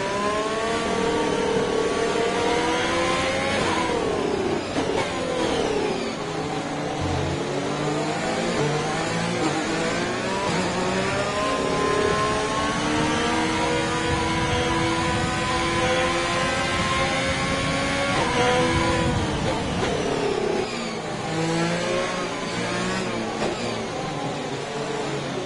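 A racing car engine in a video game revs continuously, its pitch rising and falling through gear changes during a formation lap warming up tyres and brakes, loud and alone.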